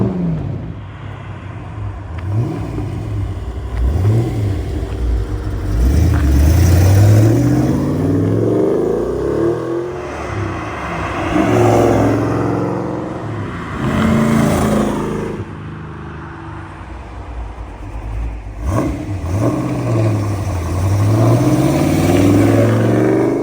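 A 1986 AC Cobra Mk IV makes repeated flybys, its engine swelling loud as it nears, then fading, with several distinct passes and revving sweeps rumbling across the road.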